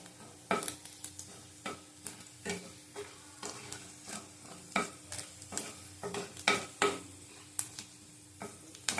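Half a spoon of fenugreek seeds frying in a pan, with a low continuous sizzle punctuated by repeated sharp scrapes and clicks from a spoon stirring against the metal, close and without talk.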